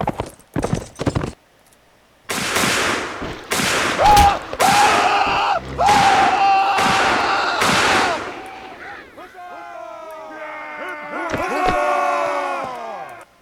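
US Civil War battle in a video game mod: sharp musket shots crack one after another, then horse hooves clatter and a horse whinnies as the charge begins, with crowd shouting at the end.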